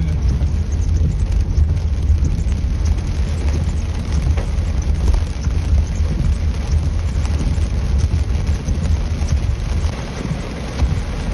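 Heavy rain pours down on a parked car in New Orleans, a dense, loud, continuous roar of drumming water that fills the whole stretch with no pauses or speech.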